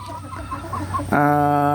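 A chicken around six to seven months old clucks in a few short soft bursts, then lets out a loud sustained crowing call close by, with no talking.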